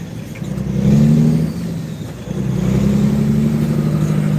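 Truck engines at an outdoor gathering of trucks, two sustained, loud revs with a deep steady drone, the first rising and then easing off before a second longer rev, with no talk.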